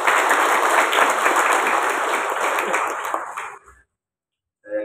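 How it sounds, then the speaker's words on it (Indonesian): Audience applause at a village head inauguration and swearing-in ceremony, a dense, loud sustained clapping from a large gathering in a hall that fades out and stops, followed by a short silence. "tepuk tangan untuk kita semua"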